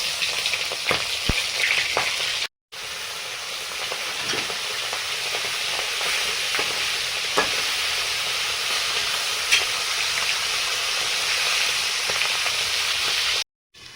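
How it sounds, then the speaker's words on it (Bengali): Tangra fish frying in hot oil in a covered kadai, a steady loud sizzle and crackle that runs continuously with occasional sharp pops and two brief cuts to silence. "মাছগুলো ঢাকা দিয়ে ভেজে নিতে হবে, কেননা ট্যাংরা মাছ প্রচুর তেল ছিটকায়"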